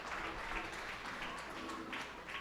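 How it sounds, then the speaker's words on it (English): Crowd at a minor-league baseball game between the New Hampshire Fisher Cats and Reading Fightin Phils cheering and applauding a batter walking to first, a steady diffuse roar of distant applause throughout. "As he gets the cheers of the crowd"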